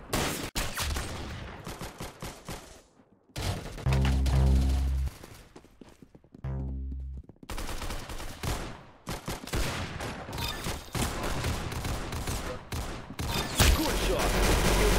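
Bursts of gunfire from the Clown Infection video game, rapid volleys and sharp single shots cutting in and out at close range, loud amid game effects, with short pauses between the shooting.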